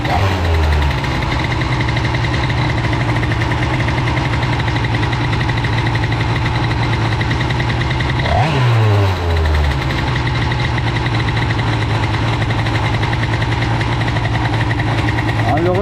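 A CPI-based 70cc moped engine with an Airsal kit and Tecnigas exhaust idles loudly and steadily up close with a rough, rattly throb, dipping briefly around the middle before settling back to a high idle.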